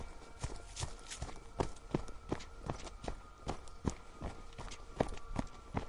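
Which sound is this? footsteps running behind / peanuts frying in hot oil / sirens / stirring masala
footsteps running behind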